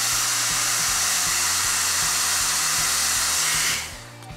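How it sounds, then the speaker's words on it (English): A hair dryer blows on maximum cool airflow with a loud, even whoosh and low motor hum, then cuts off abruptly near the end, leaving a faint residual hum. "Turn the hairdryer on maximum cool airflow and point the nozzle towards the ceiling."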